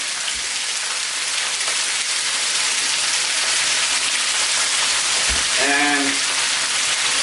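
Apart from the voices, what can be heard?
chicken involtini (rollatini) frying in a pan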